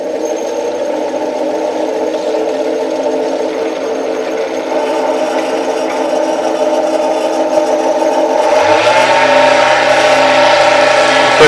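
A wood lathe turns a pizza cutter handle blank while a chisel shapes it into a round cylinder, a steady close motor hum with a continuous cutting hiss that grows louder and brighter near the end.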